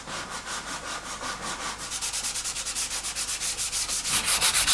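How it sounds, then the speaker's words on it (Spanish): Steady back-and-forth sanding on a wooden drum shell, close up, with a regular rasping rhythm that speeds up and grows slightly louder toward the end. "ahora pues es coger las piezas y lijarlas un poco para prepararlas para pintar."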